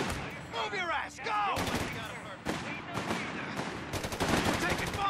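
Battlefield gunfire in Company of Heroes 3 at Monte Cassino in Italy, dense rattling machine-gun bursts and shots overlapping with shouted voices and chaotic combat noise.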